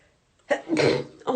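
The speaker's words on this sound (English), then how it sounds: "I'm going to sneeze again" A person with hay fever lets out a single forceful sneeze nearby, a sharp intake-and-burst followed by a breathy trailing exhale, loud against an otherwise quiet room.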